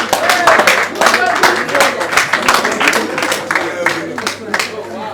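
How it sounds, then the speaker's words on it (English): An audience at a 2022 distributors' conference award presentation claps for a winning distributor, with steady, dense applause throughout and a voice speaking over it. "Let's clap for them."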